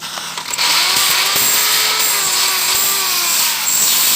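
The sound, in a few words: drilling holes with electric drill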